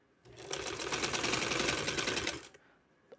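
Sewing machine stitching a trouser hem, a fast rapid-fire mechanical run lasting about two seconds, close and clear, then stopping abruptly.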